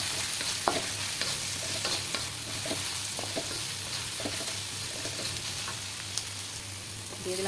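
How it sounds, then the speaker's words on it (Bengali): Crushed garlic and cumin seeds fry in hot mustard oil with a constant close sizzle, broken by frequent stirring scrapes and light clicks of a spatula against the pan, with no voices. "তেলটা গরম হয়ে গেলে আমি দেবো কাটা জিরা, দিয়ে দিলাম থেতলায় রাখা রসুন"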